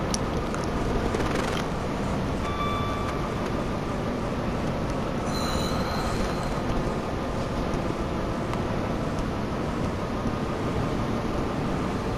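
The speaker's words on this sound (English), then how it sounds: "there we see another class 43 coming from the train garage" A Class 43 train rolls by in the Train Sim World video game in the rain, a steady low rumble of wheels and engine with brief metallic squeals partway through.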